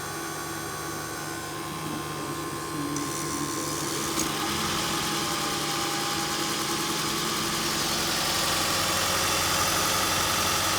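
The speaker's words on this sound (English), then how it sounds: "And the engine just kicked in." A Toyota Camry Hybrid engine idles steadily with a constant mechanical hum and faint vibration, no voices.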